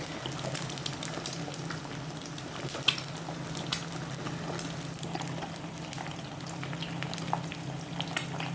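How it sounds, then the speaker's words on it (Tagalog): Egg frying in a pan with oil, a steady crackling sizzle dotted with sharp pops and spits, close and continuous, with no talking. "Luto tayo ng itlog. Sana hindi magtalsik."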